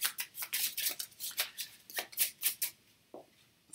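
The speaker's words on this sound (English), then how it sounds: "Now we are shuffling these cards." A deck of board game cards riffle-shuffled by hand, a rapid series of crisp papery bursts in a steady rhythm, close and clear, ending with a lone flick.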